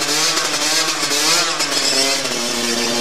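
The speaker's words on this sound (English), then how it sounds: "each team gets the chance to have a free run to get their bikes ready." Race motorcycles run hard on the track during a free run before a race, a loud continuous high-pitched engine whine with rising revs held throughout, close by.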